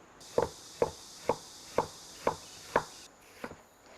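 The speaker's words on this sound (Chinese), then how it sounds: "切点点那个莲藕壳壳哈" A knife chops lotus root by hand for a spicy wonton filling: six evenly spaced, sharp chops on a board, then a softer one after a pause, close and fairly loud over faint background hiss.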